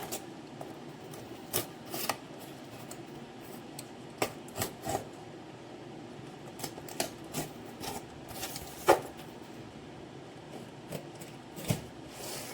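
Packaging handled during an unboxing: scattered rustles, scrapes and small taps from cardboard and wrapping, fairly faint and irregular, with short sharper crinkles among quieter handling and no talk.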